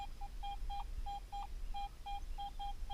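Short electronic beeps from a Garrett AT Pro metal detector during a forest dig, about a dozen clean tones in an uneven rhythm, close and clear over low outdoor background.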